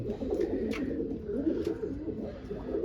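Pigeons coo in low, throaty rolls, repeating steadily and close by, with a few faint higher chirps over the top.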